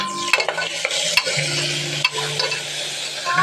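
Onion sautés in a pan with spices such as cinnamon, giving a close sizzle broken by sharp spatula scrapes and stirring clacks, with faint tonal background sounds.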